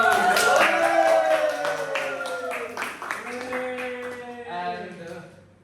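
A small group claps along with lively voices at a casual gathering, with quick rhythmic hand claps in the first few seconds that fade under ongoing talk and laughter.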